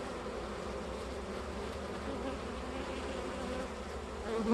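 Honey bees buzz steadily at a beehive landing board, a dense, continuous hum of many insects close by that holds even throughout and swells slightly at the very end.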